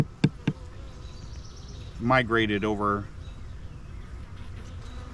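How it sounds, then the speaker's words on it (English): Honey bees buzz in a resource hive as a steady, close hum, with a couple of sharp clicks early on and a brief stretch of a person talking in the middle. "there's a lot of bees in here"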